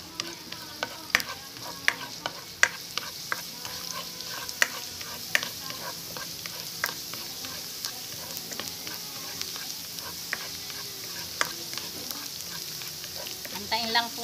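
Garlic frying in hot oil in a pan, a steady close sizzle dotted with sharp crackles and pops throughout, no voice.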